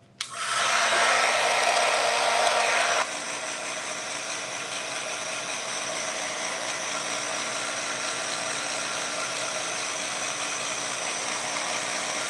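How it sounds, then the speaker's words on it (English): A handheld heat drying tool blows steadily on a craft project, a loud continuous whirring hiss that is stronger for the first three seconds, then settles to a slightly lower, even drone with no talking. "I don't know if y'all can hear me over the drying tool"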